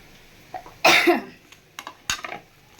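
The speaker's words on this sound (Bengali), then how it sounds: "মরিচের জন্য কাশি আসতেছে" Several sharp coughs from someone cooking a spicy onion mash, set off by chili; one loud burst of coughing followed by smaller throat-clearing coughs, close by.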